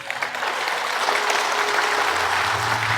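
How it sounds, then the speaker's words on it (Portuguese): A church congregation at a Catholic preaching service applauds after a Gospel reading, a loud, dense burst of clapping that fills three seconds without pause. "Aplauda a palavra de Deus."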